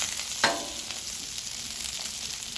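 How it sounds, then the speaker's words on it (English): Potatoes tossed in olive oil sizzle steadily in a hot pan, a constant close hiss with a brief scrape or stir partway through. "I've tossed them in some olive oil, a nice sizzle"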